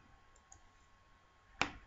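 A single sharp computer mouse click, made while shift-clicking to select pictures in After Effects, sounds once near the end after a quiet stretch of faint room noise.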